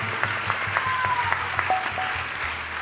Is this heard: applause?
yes